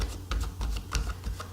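Tarot cards being shuffled by hand give a run of quick, crisp riffling clicks and flutters in close, steady bursts, with no one speaking.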